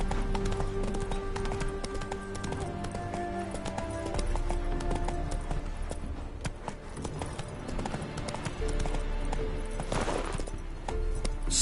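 Roach the horse's hooves clip-clop steadily in Witcher 3, close and clear over a bed of game music, with a brief neigh and faint speech.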